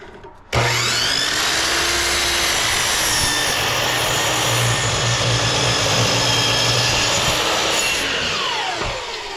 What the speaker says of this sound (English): I'm going to cut my 6, and then with a miter saw